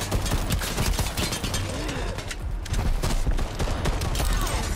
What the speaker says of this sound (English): That was a lot of shots.